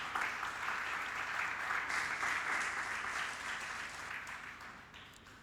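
A church congregation applauds and cheers during a sermon, a dense, steady roar of clapping that holds for several seconds and then slowly fades.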